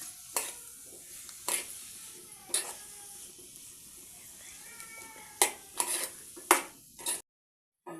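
Fenugreek leaf curry being mixed in a pan, a low background sizzle with several sharp spatula scrapes and knocks against the metal, a cat meowing in between, then a sudden cutoff to silence.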